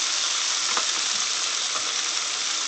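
Cube steak fries in a pan with a steady, close sizzle and crackle that holds an even level throughout, with no voices.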